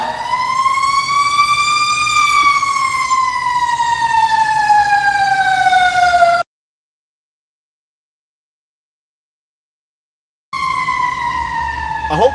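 Fire truck siren on the road, a loud rising and falling wail heard from inside a vehicle, cut off by a few seconds of total silence before it returns.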